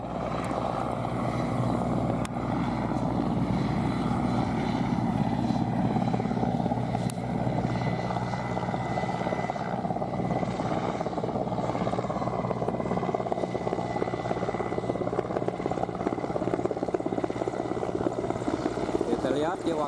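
A firefighting helicopter drones steadily overhead at an oil palm plantation fire, its rotor thrum and engine whine continuous and fairly loud, with faint voices in the background.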